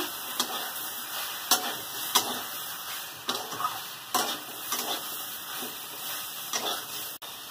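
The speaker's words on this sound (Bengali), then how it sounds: "এবার হলুদ দেবো পরিমাণ মতো। হলুদ দিয়ে একটু নেড়ে" Vegetables being stirred with turmeric in a pan for a bottle-gourd stem and fish curry: a low sizzle under repeated scraping stirs at an uneven rhythm, with a steady background hum.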